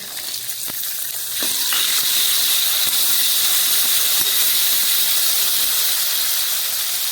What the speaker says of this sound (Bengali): আলুটা ভাজা হয়ে গেছে, এবার এর মধ্যে আমি দিয়ে দেবো মটরশুঁটি।